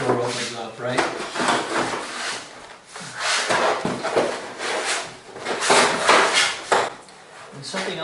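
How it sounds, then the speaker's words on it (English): An insulation panel is pushed into the channel of a steel garage door, giving a close, continuous scraping and rubbing with uneven bumps and knocks, while a person talks over it. "I want it to slide into this channel"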